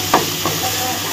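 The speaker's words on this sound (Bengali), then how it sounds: "যখন মশলাটা খুব সুন্দর ভাজা ভাজা হয়ে আসবে এর সঙ্গে লোটে মাছটা অ্যাড করে দেব।" Bombay duck fish frying with spice masala in a pan gives a steady close hiss, with a couple of brief stirring knocks near the start.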